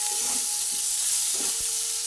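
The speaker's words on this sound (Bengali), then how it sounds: "সব দিয়ে আবার ভালোভাবে চাল, আলু এছাড়া সব মশলা একসঙ্গে ভেজে নিলাম।" Rice, potatoes and spices frying together in a pan for a cucumber curry made with Gobindobhog rice, giving a steady low sizzle with a few soft stirring scrapes and no voices.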